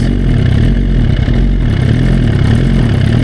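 A Suzuki GSX-R motorcycle coasting at low speed makes a steady, close, low engine rumble that holds constant throughout, with no voices.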